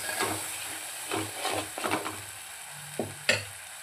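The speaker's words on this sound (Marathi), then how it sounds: "छान तेल निघेपर्यंत सुटेपर्यंत आपल्याला हे अशाच पद्धतीने परतून घ्यायचं आहे" Egg curry masala being sautéed in oil, a spoon scraping and stirring in a few separate bursts with faint sizzling, close and fairly quiet, ending in a sharper knock.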